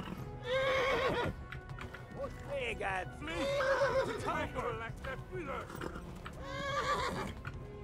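In the video game Kingdom Come: Deliverance, a horse neighs repeatedly with hoof clip-clop underneath while people talk over it.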